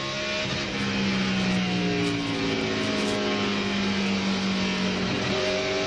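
A NASCAR Winston Cup stock car roars along the straightaway at Richmond International Raceway, misfiring on a lost cylinder. The engine drone is loud and continuous, its pitch sweeping as the car passes.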